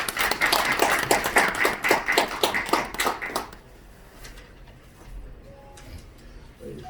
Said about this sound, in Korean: 박수로 맞이하여 주시기 바랍니다